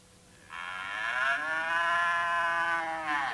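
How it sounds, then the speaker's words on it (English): A single long, clear cow moo swells in and holds steady for about three seconds before fading, up close and alone, in a classic Sesame Street scene with Big Bird on the phone. "That's a cow, Big Bird."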